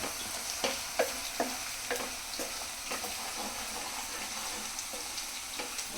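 Ginger garlic paste being stirred in a hot frying pan, a steady sizzle broken by regular scraping strokes of a spoon against the pan, close and clear.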